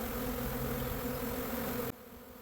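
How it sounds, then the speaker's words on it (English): A swarm of honey bees flies around a Warre hive, making a dense, continuous close buzz that cuts off abruptly near the end. "You can see hundreds and thousands of bees flying around and landing on my bee suit"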